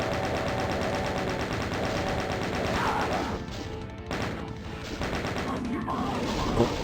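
A chain gun blazes in the Doom mod Back to Saturn X, a steady rapid rattle of shots hammering on for several seconds, then breaking into choppier bursts with a few gaps.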